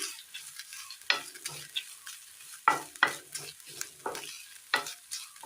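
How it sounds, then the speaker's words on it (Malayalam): Masala with grated coconut roasts in a pan, heard as repeated short bursts of scraping and stirring, fairly close, with quiet gaps between the strokes. "നന്നായി ഒന്ന് റോസ്റ്റ് ചെയ്തെടുക്കാം"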